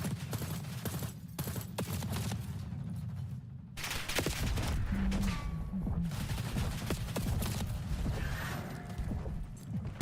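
Rapid bursts of shotgun and other gunfire from a Call of Duty Black Ops 6 match, dense and continuous throughout with sharp impacts layered over game noise.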